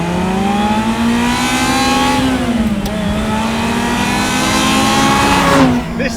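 A Ferrari F355 with its naturally aspirated V8 holds a loud, steady, pure-toned rev close by, pitch dipping slightly midway and then climbing again, with no talking over it.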